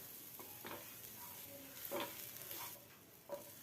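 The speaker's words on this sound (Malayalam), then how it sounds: "ആദ്യം തന്നെ ഒരു പാൻ അടുപ്പത്ത് വെച്ച് 1 ടേബിൾ സ്പൂൺ വെളിച്ചെണ്ണ, 3 വറ്റൽമുളക് ഇട്ട് ഇനി കുറച്ച് തേങ്ങ ചിരവിയതും ചേർത്ത് ഒന്ന് ഇളക്കി കൊടുക്കാം" Grated coconut and dried red chillies fry quietly in a pan of coconut oil, a faint, steady sizzle with a few soft stirring scrapes and light clinks, heard close and alone.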